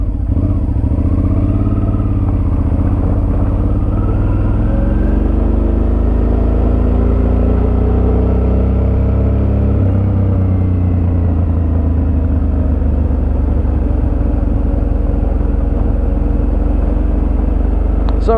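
A Suzuki V-Strom 650cc V-twin motorcycle pulls away and rides on, its engine rumbling loud and close with a steady, throbbing drone that rises and falls as it accelerates through the gears.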